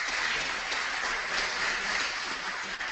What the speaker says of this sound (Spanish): Un aplauso a Jorge Fantín.